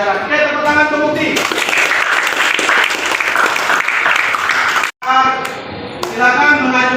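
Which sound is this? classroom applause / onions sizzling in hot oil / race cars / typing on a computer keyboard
classroom applause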